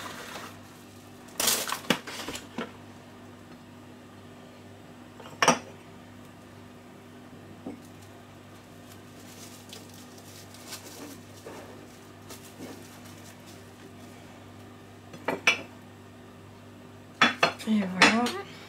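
Ceramic ramekins clink as they are set out for baking a homemade vanilla egg custard: scattered sharp knocks and a cluster of rattling clinks near the end over a quiet room hum.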